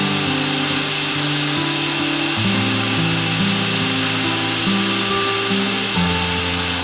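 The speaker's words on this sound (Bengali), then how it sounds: "এবার এই গোটা মশলাগুলো আমি মিক্সার গ্রাইন্ডারে পেস্ট করে" A kitchen mixer grinder grinds whole spices, green cardamom, cinnamon pieces and cloves, into a paste, its motor whining steadily and loudly throughout with shifting pitch as the load changes, and no voices.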